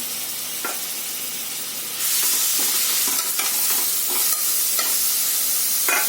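Beetroot hits hot ghee in a pan for halwa, bursting into a loud, steady sizzle and hiss that continues with occasional stirring scrapes, close and alone.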